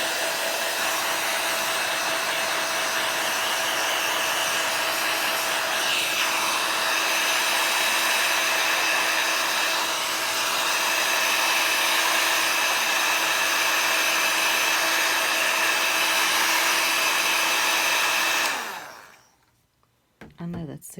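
An embossing heat tool blows loudly and continuously as it heats a brick-embossed paper card from the back, a steady close whir with faint talk underneath, cutting off near the end.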